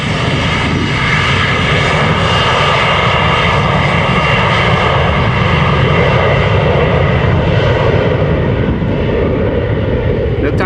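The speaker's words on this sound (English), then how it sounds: "Turn and burn, Embraer 175," An Embraer 175 jet departs Amsterdam Schiphol Airport with a loud, close, continuous engine roar that stays steady across the whole stretch, while a voice talks faintly beneath it.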